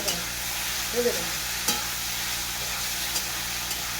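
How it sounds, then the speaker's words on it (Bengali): Onion and chicken sizzle together in a pan with a steady, even hiss. A few soft stirring knocks and scrapes rise above it. "পেঁয়াজ চিকেনটাকে একসাথে ভেজে নিলাম"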